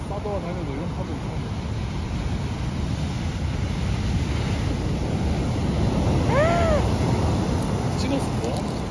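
Large ocean waves, taller than a person, surge and break against a summer beach in a roaring, continuous wash of surf with wind buffeting the microphone; excited voices talk over it.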